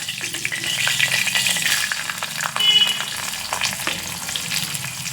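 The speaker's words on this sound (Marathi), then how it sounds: "आता आपण त्यात टाकत आहोत कांदा." Chopped onion frying in hot tempering oil with mustard seeds, cumin and asafoetida, a close, steady sizzle with stirring scrapes and occasional louder crackles, no voices.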